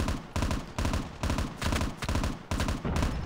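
M16 assault rifle firing repeated three-round bursts in Call of Duty Mobile, loud and close, with sharp cracks in quick succession and brief pauses between bursts, alone with no talk.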